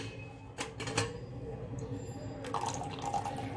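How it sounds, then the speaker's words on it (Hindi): Water poured into bel sharbat in a home kitchen, a soft, steady liquid trickle with a few brief splashy bursts, close and fairly quiet. "देखिए इसमें मैं डालूंगी पानी"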